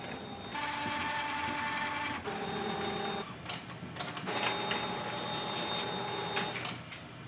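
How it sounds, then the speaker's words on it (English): An Epson XP7100 inkjet printer runs a nozzle check print, its carriage whirring back and forth in steady passes with mechanical clicks and brief pauses, close by and without talk. "Let's do the nozzle check. Click on the check and print."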